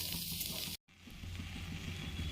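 Grated mango coated with a little white oil sizzles steadily in a hot kadai, a continuous close frying hiss broken only by a brief dropout partway through.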